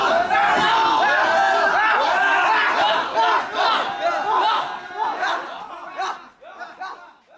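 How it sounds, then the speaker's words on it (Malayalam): A group moving through a village toward temple-area houses raises loud festive shouts and cheers announcing the temple festival (pooram); overlapping rhythmic cries and calls, close and energetic, fading toward the end with some laughter mixed in. "ആർപ്പുവിളികളോടെയാണ് സംഘത്തിന്റെ സഞ്ചാരം"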